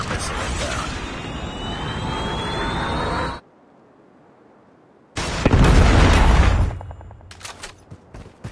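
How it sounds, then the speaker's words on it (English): A Predator missile strike in Call of Duty Mobile rushes in with loud roaring bursts, cuts to near silence, then slams back with a heavy blast followed by scattered crackling impacts. "Friendly Predator missile inbound."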